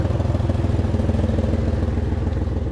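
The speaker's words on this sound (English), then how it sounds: "The vehicle is running." A Chevrolet Camaro engine runs with its fuel pump relay pulled and the fuel gauge at zero, giving a loud, close, steady pulsing idle with a rhythmic mechanical chug throughout.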